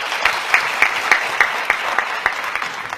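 At a televised parliamentary-style debate competition, an audience claps together in a dense, rhythmic burst of applause with regular, evenly spaced louder claps, steady throughout.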